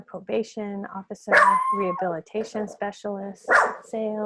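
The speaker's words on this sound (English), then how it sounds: "I apologize, that's my dog, a little ferocious Chihuahua." A small Chihuahua barking in short, sharp yaps and yips, several quick bursts mixed with a woman's steady lecture-style talking.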